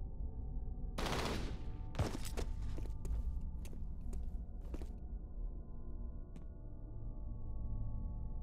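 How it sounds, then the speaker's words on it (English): Bursts of automatic gunfire in the game F.E.A.R. crack out in quick succession, fairly close, over a constant low background rumble, then trail off into scattered single shots. "They just started shooting."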